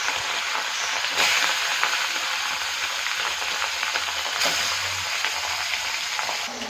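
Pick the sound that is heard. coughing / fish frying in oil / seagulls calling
fish frying in oil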